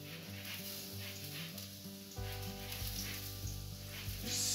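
Garlic and lemon zest sizzle in oil being stirred for harissa prawns, a soft steady frying hiss that swells louder partway through, with faint scraping of the pan and no talking.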